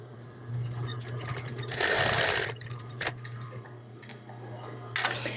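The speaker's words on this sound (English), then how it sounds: "we're gonna back stitch at both ends" A sewing machine stitches a right-sides-together apron ruffle seam with a half-inch allowance, back stitching at the ends: a steady close mechanical run with a louder burst of stitching in the middle and short pauses between.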